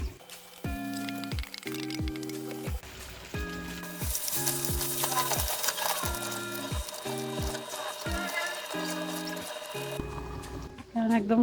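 Marinated mutton goes into a pot of fried spices and tomatoes and sizzles steadily, the crackle swelling partway through, while a cook speaks over it.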